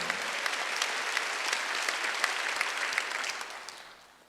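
A church congregation at a Wednesday worship service breaks into dense, steady applause that fills the room and then fades out toward the end.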